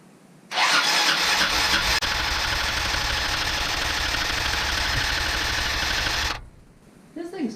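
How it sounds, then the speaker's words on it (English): A carbureted Arctic Cat 400 ATV engine cranks with a loud, steady, buzzing whir for about six seconds close by, then cuts off, followed by a short rustle. "We'll keep cranking, see if she goes."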